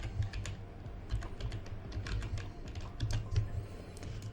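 Quick clicking of a computer keyboard as a search is typed while working in Unreal Engine 5, a steady close patter of keystrokes over a low background hum, with no speech.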